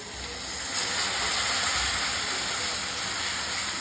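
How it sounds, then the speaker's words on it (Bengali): Water poured into a bowl of semolina while preparing sweet danadar halwa, a steady continuous hiss-like splash running evenly for a few seconds, alone without talk. "এবার আমি জল দিয়ে দেব।"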